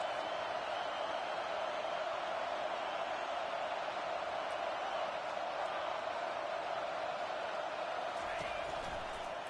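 A stadium crowd roars steadily at a college football game between Florida and South Carolina, a dense continuous wash of cheering in a goal-to-go moment under commentary.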